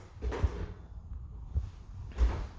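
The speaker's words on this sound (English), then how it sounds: "if I push the door open" An interior door swings open in a rented flat during a move-in inventory, giving a few dull bumps and knocks with faint rustling and room noise around them.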